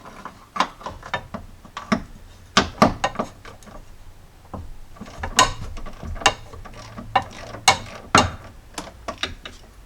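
Ratchet wrench turning a shock absorber nut on a Jeep Cherokee XJ, sharp clicking bursts in uneven groups with brief pauses between, close and clear.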